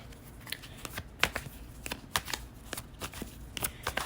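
Tarot cards are shuffled softly and repeatedly, with quick riffling flutters and light taps at an irregular pace, close up and quiet.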